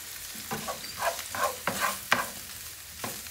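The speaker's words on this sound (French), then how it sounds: "Donc là, je m'ajoute les pieds de champignons émincés." Sliced mushroom stems sizzle in a hot pan for stuffed mushroom appetizers, with a spoon stirring through them in several quick, close scrapes over a steady fry.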